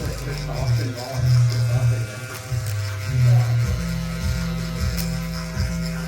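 Electric hair clippers buzz continuously while cutting a mid taper haircut, a steady low hum that shifts in pitch as the blade moves through hair, with people talking over it throughout.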